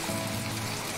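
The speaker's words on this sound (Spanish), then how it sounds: "Espera, que está lloviendo." Steady rain falls in the video game My Time At Portia, a soft, even hiss of drops with no break and no voices.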